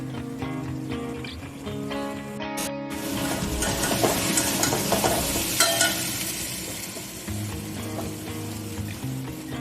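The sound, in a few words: potatoes stirred and fried with spices in a pan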